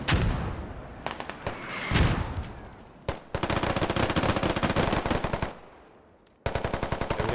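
Mortar fire in a competitive team shooter match, heard as a few heavy booming impacts mixed with long rapid bursts of automatic gunfire, loud and close with brief lulls between volleys.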